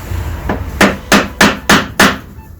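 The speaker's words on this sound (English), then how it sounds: "tap this down just a hair here" Hammer tapping a wooden piece flush on an art display pedestal: five sharp, evenly spaced knocks, close and distinct, after a softer first tap.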